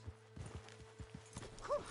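Steady clip-clop of horse hooves at a walking rhythm in the video game Red Dead Redemption II, fairly close, with a faint bright tone briefly chiming in near the end.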